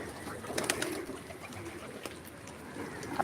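A pigeon coos faintly among other birds in a backyard setting, soft and somewhat distant, with light background noise and no clear talking.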